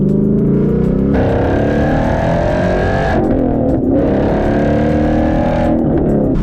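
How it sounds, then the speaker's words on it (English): A Ford Mustang engine roars loudly through a deep exhaust with no mufflers or resonators, revving up in two strong pulls with a gear change between on an MT82 manual gearbox, with no voices. "I like with his exhaust setup how deep it sounds even still, with having no mufflers or resonators."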